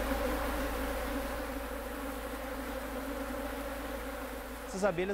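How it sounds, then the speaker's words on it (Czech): Honey bees buzz steadily around a beehive in Latin America, a dense continuous drone close by that fills the whole stretch, with a brief louder burst near the end. "Včely dokáží uletět až 3 kilometry."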